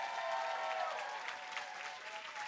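A fashion runway show audience gives the designers a dense, sustained round of applause that holds steady for the whole stretch, with crowd noise blended in.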